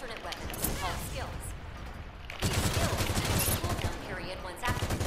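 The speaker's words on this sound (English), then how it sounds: "Please demonstrate firing, alternate firing, and reloading your weapon" Mobile suit weapon fire in the mech shooter Gundam Evolution, a dense run of rapid gunshots at close range that thickens and grows louder halfway through, with game speech over it.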